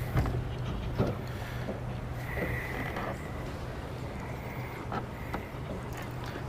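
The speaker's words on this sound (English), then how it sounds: "There's that wind." Wind gusts outdoors beside the water at a fishing spot, a low rumbling buffet against the microphone that holds steady throughout with slight swells, and no one speaking.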